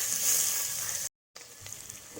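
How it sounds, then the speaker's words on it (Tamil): Onions sauté in a hot pan while being stirred, producing a steady close sizzle that cuts off briefly into silence, then resumes more quietly with light stirring scrapes. "வெங்காயம் வந்து கொஞ்சம் ப்ரௌன் ஆகிற வரைக்கும் நல்லா கிளறி விட்டுக்கலாம்."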